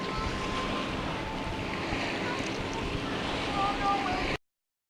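Motorboat running on open water near a wakeboard tournament, a steady broadband rush of engine, hull and wind that cuts off abruptly at the end.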